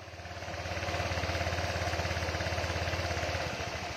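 Motorcycle engine idling just after being started, a steady close, even putter with a fine rapid pulse that rises slightly and holds level alone.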